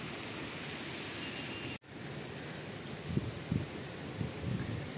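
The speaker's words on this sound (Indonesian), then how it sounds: "Mau berangkat kerja tapi malah hujan." Rain falling on a wintry, windy day in Portugal, a steady broadband wash with brief cut-out partway through and a few soft low thumps afterward, no voices.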